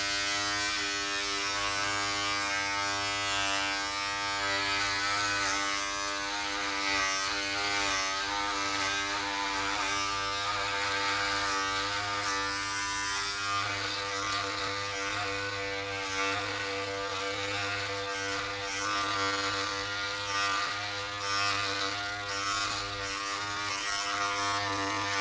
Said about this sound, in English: Now we're going to put the shaver head on.